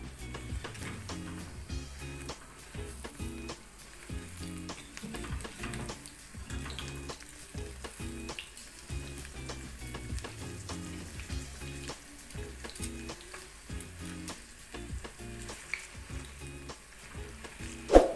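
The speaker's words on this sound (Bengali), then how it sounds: "ধনেপাতার পকোড়াগুলো আমি এবার সুন্দর করে ঠিক একই প্রসেসে আমি ভেজে তুলে নেব" Coriander leaf pakoras deep fry in hot oil with a steady, fairly quiet bubbling sizzle throughout and a brief clatter at the very end.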